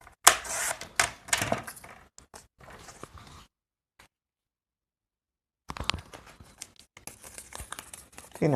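Paper being cut with scissors for a handmade tag, a run of crisp snipping and crinkling bursts, then a long silent pause before more close cutting and rustling resumes.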